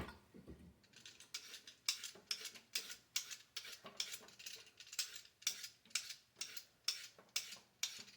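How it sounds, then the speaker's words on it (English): Carrots scraped with a new vegetable peeler, a steady series of crisp rasping strokes about twice a second, close and fairly quiet with no talking. "peel a couple of carrots. I love this new peeler I got."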